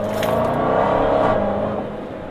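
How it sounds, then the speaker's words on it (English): Dodge Challenger Hellcat with a Borla exhaust, its supercharger whining over a loud, steady engine note as the car accelerates, close and continuous with no talk. "That supercharger whine is absolutely awesome."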